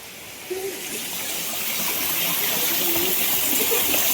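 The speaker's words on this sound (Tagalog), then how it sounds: "Ayan yung sapa, oh guys." A flowing stream beside a historic tunnel and spring in the Philippines, a steady broadband rush of water that grows slightly louder, close by, with a faint voice briefly underneath.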